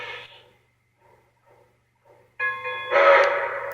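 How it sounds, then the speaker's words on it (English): Model train sequence control sounding two soft, distant bell strokes followed by a louder, sustained steam whistle, alone without talk. "You should hear the two bell strokes and then the whistle."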